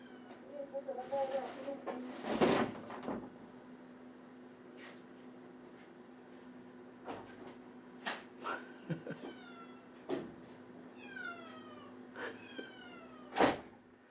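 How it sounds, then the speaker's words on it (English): A house cat meows several times, some calls drawn out and rising, others short, spaced irregularly across a quiet indoor room with a faint steady hum beneath. "Can you hear the cat?"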